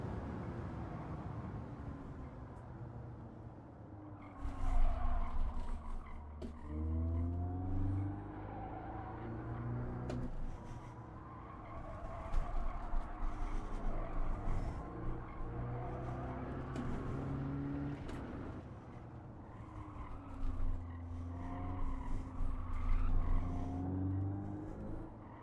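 Racing car engine in a video game time trial, a steady whining drone that rises and falls in pitch through gear changes and corners with faint tire noise, no talking.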